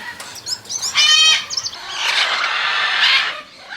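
Parrots at a parrot zoo screech and chatter loudly up close, with rough, noisy flapping and squawking bursts filling the second half.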